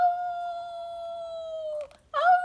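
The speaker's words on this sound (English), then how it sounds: "From far behind, he heard Lucy's anguished howl." A long, anguished dog howl held on a steady pitch for nearly two seconds, then a brief break and a shorter howl, clear and fairly close with no one talking over it.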